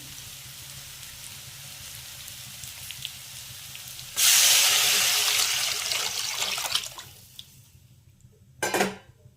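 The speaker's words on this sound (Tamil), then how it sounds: "அந்த தண்ணி அப்படியே சேர்த்துக்கலாம்" A sudden rush of water pours into a cooking pan of tomato rasam for a few seconds, then tapers off, with a brief splash near the end.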